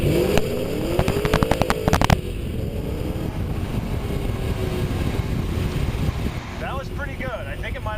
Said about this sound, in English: all I'd have to do is give it some in first gear, and that's enough to get the tires rolling